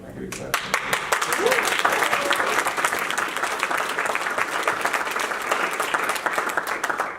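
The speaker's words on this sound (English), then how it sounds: "Can I get a clap?" An audience claps together in a steady burst of applause at a mentoring talk, dense and sustained for several seconds with a few faint voices mixed in.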